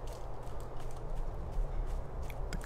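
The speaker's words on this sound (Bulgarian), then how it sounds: "Освен че чувам някакви други стъпки, освен моите." Other footsteps in the horror game The Secret of Pineview Forest, a steady, fairly close clip-clop of soft steps over a constant low ambient rumble, with no talking.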